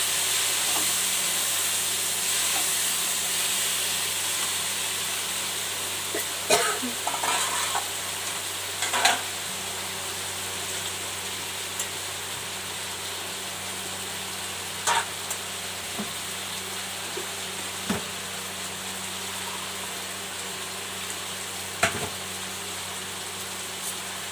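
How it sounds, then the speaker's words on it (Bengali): Marinated dal being sautéed in a pan, a long steady frying hiss and sizzle with occasional sharp clinks of a spatula stirring against the pan, no one speaking. "এই ডালটা মেখে রেখেছিলাম, এটা দিয়ে দিচ্ছি। দিয়ে একটু ভালো করে কষিয়ে নেব।"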